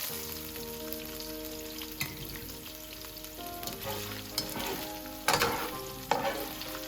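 Sausage browns in a pan for pumpkin and sausage risotto, giving a steady soft sizzle and crackle with occasional louder clatters and scrapes of stirring, close and without talk.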